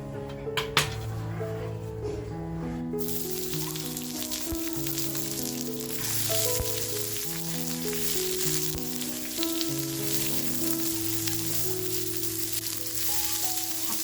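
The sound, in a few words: onion sautéing in oil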